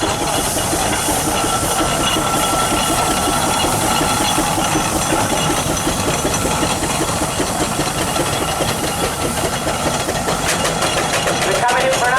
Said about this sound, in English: Loads of chuffing out of the chimney, depicting how much power is being used in top gear